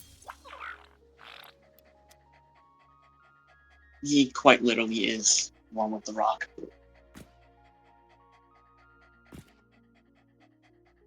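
A lizard dog creature in a video game pants in quick breathy bursts, loud and close, in a cluster near the middle of the clip. Soft game tones play throughout and a person speaks over it.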